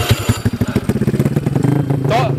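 A big motorcycle engine revving with the throttle: loud, close, rapid thumping pulses that quicken and rise in pitch as it is opened up.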